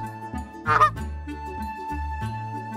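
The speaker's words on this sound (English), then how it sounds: "Goose." A single loud goose honk rings out over light background music, brief and close.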